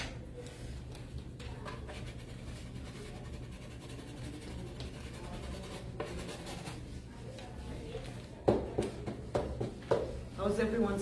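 Chalk pastel rubbing across a wooden board during an art workshop demonstration, a soft, scratchy, irregular scraping under steady room noise, with people talking throughout and sharper strokes near the end.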